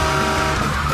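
Hot Wheels toy cars racing down a track in a semifinal heat, a brief, loud, continuous rolling whir of plastic wheels on the track, heard alone.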